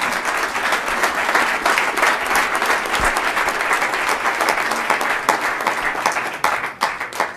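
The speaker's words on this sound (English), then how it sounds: "Give these guys a round of applause." A crowd at a 1 Million Cups startup pitch gathering in Kansas City breaks into sustained, dense applause that holds steady for several seconds and thins slightly at the end.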